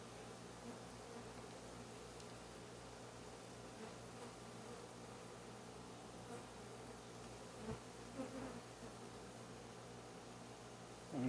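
A steady, droning buzz of many bees in a crowded hive, continuous and close, with a slight swell in intensity near the end.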